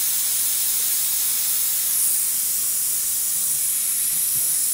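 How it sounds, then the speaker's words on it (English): Compressed air rushes out in a steady, loud hiss as the primary air tank of a truck air-brake system with a DC-4 double check valve is drained. "So now I'm going to drain the primary tank."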